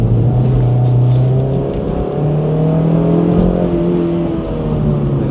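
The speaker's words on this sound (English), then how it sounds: "this is a second gear corner, accelerating." Car accelerating hard in second gear through a corner on a track, engine note rising and falling in a steady loud drone with sustained revs and no talk over it.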